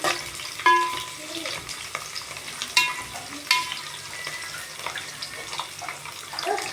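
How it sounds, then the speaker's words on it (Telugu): Three sprigs of curry leaves crackle in hot oil for a chicken pulusu tempering, a steady close sizzle with a few sharper pops and spatula scrapes throughout, and no talking. "3 రెబ్బలు కరివేపాకు కూడా వేసేస్తున్నా. ఇది బాగా నూనెలో వేసుకోవాలి, మాడిపోకుండా చూసుకోవాలి."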